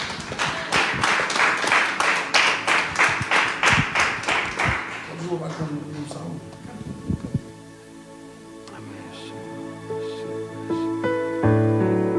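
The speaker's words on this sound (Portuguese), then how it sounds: "Damos um aplauso para Jesus." A burst of rhythmic clapping from a church congregation lasting a few seconds, fading into quieter sounds and then music.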